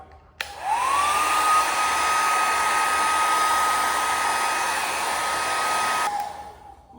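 Blower of hot air drying a weld surface before non-aqueous developer is applied in penetrant testing; a loud, steady whooshing hum starts abruptly, holds for about six seconds with a stable whine, then cuts off.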